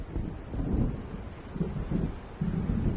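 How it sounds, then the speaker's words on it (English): Low, rolling rumble of thunder from an approaching storm in the Alan Wake video game, steady and muffled with gusty swells, moderately loud and with no talk. "It seems there's a storm coming."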